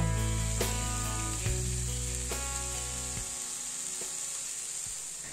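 Broccoli stir fry sizzling steadily in a hot pan while being mixed, a close, bright frying hiss with a few scraping stirs, loud at first and gradually easing off.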